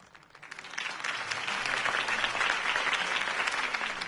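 Crowd applause after Harvey Dent's campaign speech in a Batman video game: clapping swells in from quiet over the first second, then holds as a dense, steady roar of many hands.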